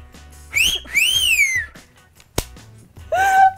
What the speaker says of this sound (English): That's my cat call.